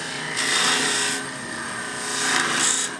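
Sandpaper rubs a wooden Christmas ornament by hand, giving a loud, close, broad scratchy hiss in two long strokes that swell and fade, with no talking.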